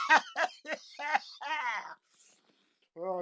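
A person coughing repeatedly from a habit of coughing too much: five quick rough, voiced hacks, then a longer strained wheezy cough, a short silence and another voiced burst, all close and loud.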